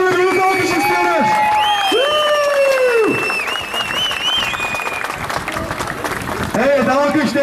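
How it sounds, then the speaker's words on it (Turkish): Crowd clapping and cheering for a graduate at a diploma ceremony held at the sea, loud and steady throughout, with a voice talking over the applause. "Evet, üf bayan suya attığı büyük alkış istiyoruz."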